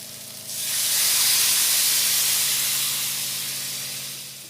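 Poppy seed paste hits fried potatoes and pointed gourd in a hot pan, a loud, sudden hissing sizzle that swells and then holds steady, slowly fading.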